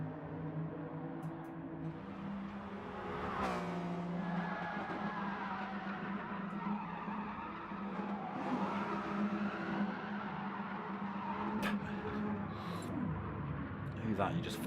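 RC race cars whine and buzz around a racetrack during a multiclass league race, with motors rising and falling and occasional tire squeals as they pass, under steady commentary from people talking throughout.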